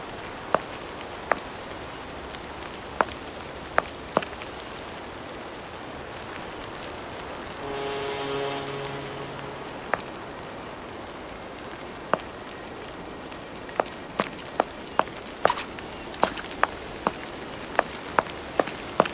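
Steady rainfall in the Sherlock Holmes Versus Arsène Lupin video game, a soft continuous patter on surfaces with scattered sharp drips and clicks throughout, plus a brief tonal hum around the middle, no voices.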